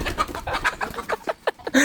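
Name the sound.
village rooster clucking while being chased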